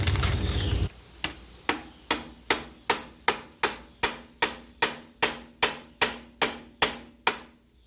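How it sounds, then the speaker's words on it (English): A ball peen hammer strikes a Holley Double Pumper carburetor throttle base plate part about a dozen times at a steady, even rhythm, each sharp metallic tap clear and close with nothing else heard between blows. "I just hit it with this ball peen hammer, so I have a little bit of a curve to it."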